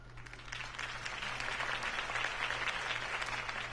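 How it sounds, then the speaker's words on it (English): A crowd applauds after Harvey Dent's campaign speech in Batman: The Telltale Series, a broad steady wash of many hands clapping that swells slightly midway, heard at a moderate distance over a low hum. "If only Mr. Wayne, my campaign's largest backer, could have heard that applause"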